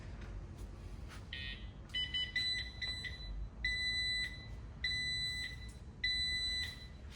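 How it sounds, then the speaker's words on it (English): A Cricket folding power wheelchair in neutral emits repeated high electronic beeps in short bursts with brief gaps, fairly close, with no talking. "That is beeping because I've got it in neutral."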